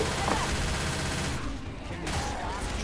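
Dense, continuous gunfire in Left 4 Dead 2 as players shoot at a Tank, a loud unbroken barrage of shots filling the whole short stretch.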